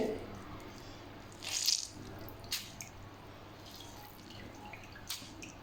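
Quiet wet squishing with a few drips and splashes as grated potatoes are squeezed by hand so water runs out, with brief louder bursts.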